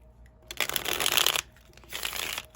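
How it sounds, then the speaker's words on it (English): Tarot cards being shuffled close up, two quick riffling bursts separated by a short pause. "we're gonna do one more shuffle"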